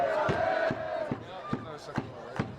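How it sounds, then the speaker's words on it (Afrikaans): Crowd at a Bloemfontein rugby final between Heimat and Veritas, a dense roar of chanting and cheering from the stands with rhythmic shouted bursts about every half second, loud and sustained. "Die skare gaan mal, hoor dit van beide kante af."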